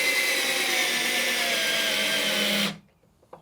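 A cheap low-rated drill buzzes continuously as it drives a screw into a table, holding a steady high whine before stopping suddenly, followed by a couple of faint clicks.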